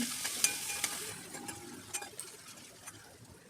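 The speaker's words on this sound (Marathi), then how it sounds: "इकडे मी तेल टाकलं आहे कढाईमध्ये याच्यामध्ये मी कढीपत्ता टाकत आहे" Curry leaves and crushed spices sizzle in hot oil in a kadai, with a steady crackling fry and light stirring clicks close by. No one speaks.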